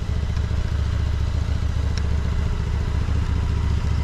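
Several motorcycle engines idle close by before setting off for a rally in Częstochowa, a steady loud rumble with clattering, thumping pulses running continuously throughout.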